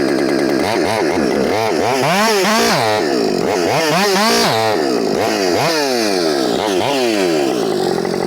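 A Husqvarna 562xp chainsaw, set up for racing, runs flat out through knotty wood, loud and close. Its screaming pitch bogs down and recovers over and over as the chain bites through the knots, with no voices.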